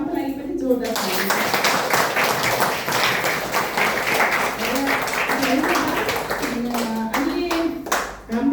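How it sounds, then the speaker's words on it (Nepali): A crowd at a DXN meeting claps loudly and steadily in welcome for a speaker, the dense applause running under a voice heard at the start and again near the end. "अनि सम्पा म्याडम, उहाँको लागि पनि जोरदार ताली।"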